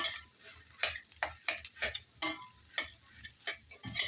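Boiled potatoes mixed in a bowl, heard as a string of distinct, fairly sharp scraping and tapping strokes that come at irregular intervals, close up and with no one speaking.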